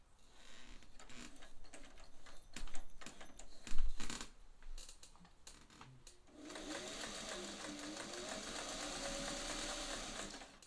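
A Singer 400 series sewing machine sews a short, wide stitch. Scattered clicks and knocks from handling the machine come first, then a steady, close mechanical whirring runs for the final four seconds.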